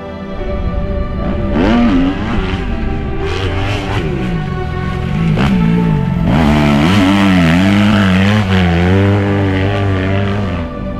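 Motocross motorcycle engines on a sandy hill track at Lidzbark Warmiński. Loud, close revving rises and falls in repeated throttle blips, with rough engine whine layered over continuous noise and no talk.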